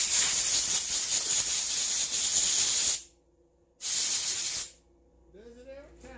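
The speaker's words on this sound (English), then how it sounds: "A little gas left in the line. Of course, it's going to spray me." Leftover gasoline spraying from the fuel line of an Echo 355T trimmer being taken apart, two loud close hissing bursts separated by a short silence, followed by a brief spoken voice.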